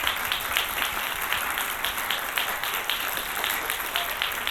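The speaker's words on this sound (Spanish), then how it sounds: "Adolfo, un aplauso por favor." A dense, steady wash of audience applause fills a film presentation hall, many hands clapping evenly throughout without pause.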